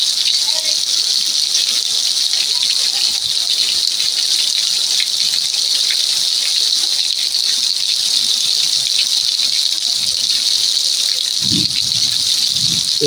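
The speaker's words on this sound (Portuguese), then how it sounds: "É muita chuva." Heavy rain pours down steadily in the Brazilian backcountry, a loud, dense and unbroken hiss that fills the whole stretch, with a brief low sound near the end.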